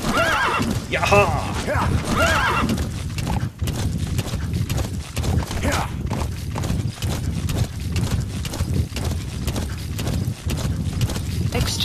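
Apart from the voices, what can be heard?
horse neighing and galloping in the video game Metal Gear Solid V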